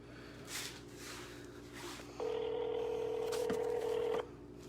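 A telephone number with its area code being dialed, giving a steady electronic tone of about two seconds over a faint, quiet background.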